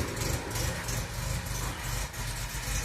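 A restored 1966 MGB GT engine with bell-mouth intakes idles steadily and quietly, a low, even rumble that holds without talk for about three seconds.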